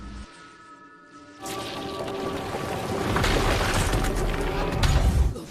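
A deep, rumbling bomb blast from the animated series Arcane erupts after a quieter stretch, swelling into a loud, sustained roar of debris and crackling that builds toward the end.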